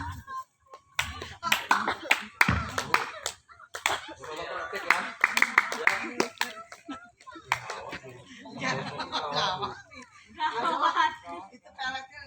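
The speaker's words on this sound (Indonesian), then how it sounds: "Teknik tepukan." Hand-clapping from a didong performance by maestro Okem, with sharp, rhythmic claps in bursts mixed with voices, chuckles and chatter from people nearby.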